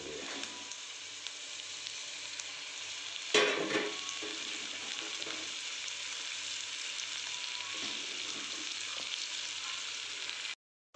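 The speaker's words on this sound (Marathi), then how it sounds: "आपला परतला चालला आहे." Onion and coriander sauté over low heat in a pan for masala eggplant, giving a steady close sizzle with a sharp clatter early on, a faint bird cooing in the background, and an abrupt stop at the end.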